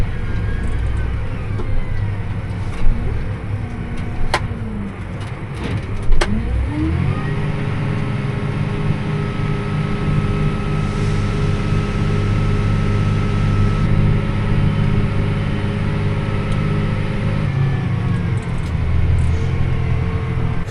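A farm vehicle pulls a grain cart across a soybean field at harvest, its engine droning steadily and loud and close throughout, with a brief revving swell early on and a constant rumbling mechanical hum.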